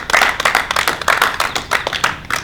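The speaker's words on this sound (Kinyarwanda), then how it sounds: "Amashyi menshi kuri no muryango" Audience applause in a dense, steady stream of hand claps, close and lively, rising and falling in small waves throughout.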